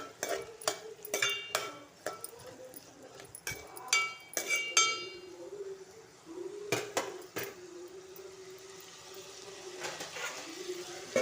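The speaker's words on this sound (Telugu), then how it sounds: "ఇలా మూత తీసేది ఒకసారి కలుపుకోవాలి" Potato fry in a pan: a lid lifted with metallic clinks, then a spoon stirring and scraping the pan in bursts, with quieter gaps between and faint talk.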